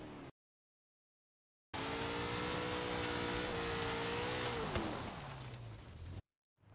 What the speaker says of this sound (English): Some insane Ford Transit off-roading.